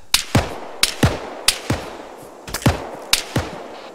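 Gunfire in ARMA 3: sharp, isolated rifle shots in irregular pairs, each crack followed by a brief lower echo, fairly loud with quiet gaps between.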